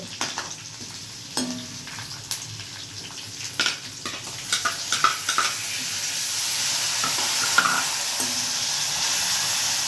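Curry leaves, green chillies and hing sizzle in hot tempering oil for a Gujarati masala khichdi, a steady close crackle punctuated by light stirring taps and spatters, with no voices.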